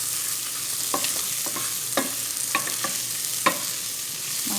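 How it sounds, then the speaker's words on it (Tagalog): Carrots and chicken for Filipino chicken sotanghon soup are stirred in a hot pan, giving a run of quick, close scraping strokes over a constant soft sizzle. "Mahalo na natin sa mabuti"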